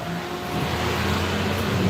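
A truck engine runs with a steady, fairly loud rumble that swells slightly, a continuous motor drone with road-like hiss and no speech over it.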